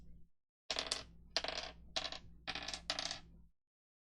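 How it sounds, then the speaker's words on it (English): Dice are rolled on a table at a tabletop game session, a handful of clattering bursts in quick succession, close and fairly loud, then silence. "Don't worry about the dice that's being rolled."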